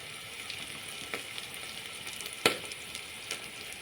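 Chopped tomatoes go into a hot frying pan of oil and sautéed onions for a poori kurma and sizzle steadily and softly. A few sharper crackles and light stirring scrapes sound up close, with no one talking.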